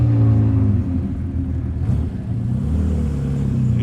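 A red Ford GT40 classic race car on a French road rally passes close by, its engine giving a loud, steady low rumble that swells and holds through the pass.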